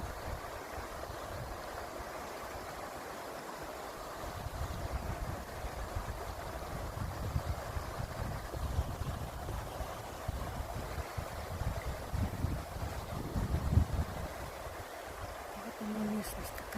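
Mountain river Gromotukha in Ridder, East Kazakhstan, rushing steadily as a broad, continuous roar of flowing water, moderately loud and unbroken, with a few low bumps and no voices over it.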